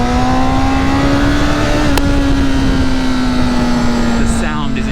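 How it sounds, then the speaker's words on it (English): A 2019 Honda CBR1000RR SP inline-four motorcycle engine hums at a steady, smooth pitch during a test ride, loud and continuous with a brief click near the middle and a slight drop at the end. "The sound is intoxicating. This inline 4 from Honda is smooth as butter"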